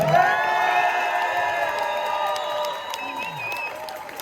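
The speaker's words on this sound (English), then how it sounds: "Big clap for the SNP, come on!" Protesters in a shopping centre clap and cheer for a political party, mixed applause with whoops and shouts under a lingering sustained tone, fairly close and lively for about four seconds.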